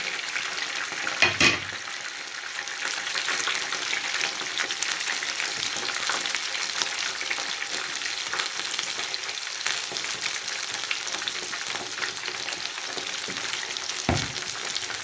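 Chicken pakora fries in hot oil, a continuous loud sizzle and crackle with an occasional clatter of a utensil, and no talking.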